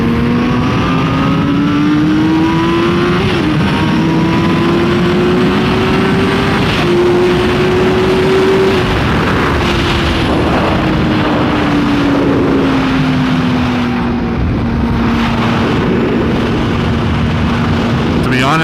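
Yamaha R6 sport motorcycle engine riding along a newly explored road, a steady loud drone that rises and falls in pitch as it accelerates and shifts, with heavy wind rush throughout.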